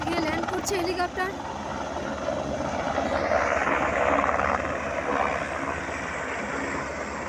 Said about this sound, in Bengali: ল্যান্ড করছে হেলিকপ্টার।